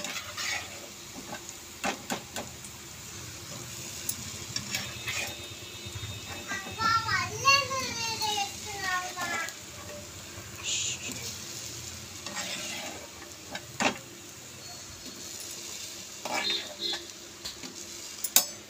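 Gulab jamun balls frying in a pan of oil at home, with continuous sizzling under stirring and utensil clinks. Scattered scrapes and knocks come through, and a voice is faintly present at times.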